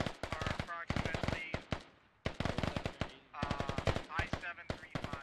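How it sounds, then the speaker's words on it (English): Rapid automatic gunfire in a military video game crackles in long, dense bursts separated by brief pauses, loud and close, with voices faintly mixed in. "Now they're just firing into nothing."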